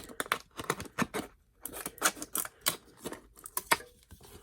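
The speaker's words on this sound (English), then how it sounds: "And then I cut around the corners here." Scissors snip through a plastic stencil sheet for alcohol ink work, cutting around its corners in quick, close, crisp bursts, some clustered and some spaced by short pauses.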